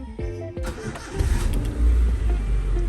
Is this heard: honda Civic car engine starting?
yes